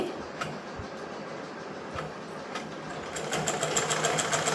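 Sewing machine stitching a blouse at home, a steady mechanical whirr that grows louder and faster after a few seconds, running alone.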